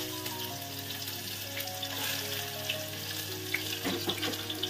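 Onions and green chillies frying in hot oil in a pan, a steady dense sizzle with faint crackles and a low hum underneath, continuous throughout.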